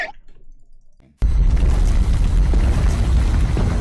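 A loud bomb blast in Minecraft Bed Wars bursts in suddenly after near silence and keeps roaring as a dense, sustained rumble to the end, with no talk over it.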